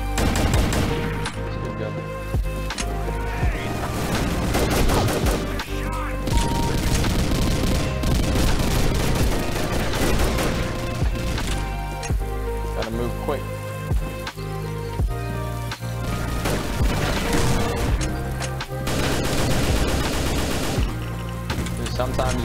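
Gunfire in the video game Combat Arms: dense, continuous bursts of automatic weapons and repeated shots over a loud, busy game soundscape, with heavy reports throughout.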